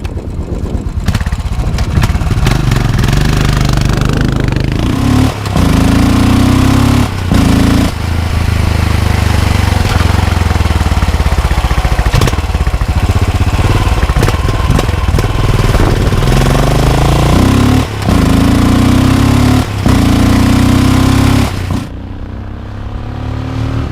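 Engine of a Royal Enfield Continental GT 535 café racer motorcycle, a single-cylinder bike noted for heavy vibration above 4000 RPM: a loud, close, steady thumping idle with repeated revs rising and falling, then dropping off near the end.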